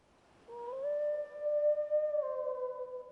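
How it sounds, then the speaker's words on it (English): In Final Fantasy XVI, the wolf companion Torgal lets out a single drawn-out howl, rising and then holding a clear, steady tone for about three seconds before tailing off, fairly quiet and with no voices. "And this is where he howls."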